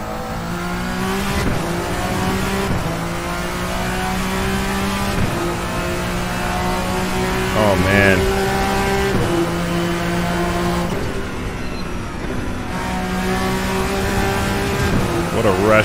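Vendetta V60 race car in a sim racing game, its engine revving hard through repeated gear shifts and dropping under braking, loud and close throughout.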